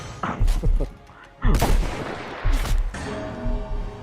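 Gunfire from an infinite-ammo gun in the Roblox game Violence District: three loud, sharp bursts spaced about a second apart, each trailing off into a brief rumble.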